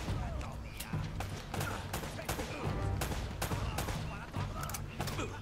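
Gunfire in the video game Uncharted, rapid bursts and scattered shots aimed at the player, continuous and fairly loud, with music and game effects layered underneath.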